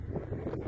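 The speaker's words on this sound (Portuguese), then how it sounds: "Ventando bastante aqui hoje." Low, buffeting wind rumbles against the microphone in a brief, steady gust.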